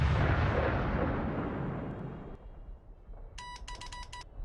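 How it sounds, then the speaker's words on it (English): An artillery barrage in the First World War strategy game The Infanterist, heard as a dense, rumbling roar of distant blasts that slowly fades, followed by a brief run of electronic beeps. "the artillery barrage that they're doing"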